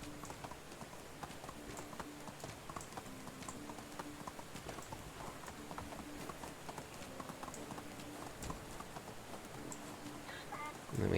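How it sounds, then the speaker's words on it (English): Hooves of a donkey being ridden on a village path clip-clop in a steady, even rhythm throughout, close and moderately quiet, with faint birds in the background. "Ride! Ride, little donkey!"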